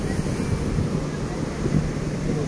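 Ocean waves wash onto Icacos beach in Acapulco, a steady, dense roar of surf with wind buffeting the microphone throughout, no distinct breaks standing out, loud and continuous.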